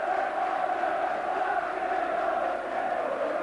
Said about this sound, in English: There's a little bit of sporting applause there for that run from Bruce Grobbelaar aimed towards Mark Robins.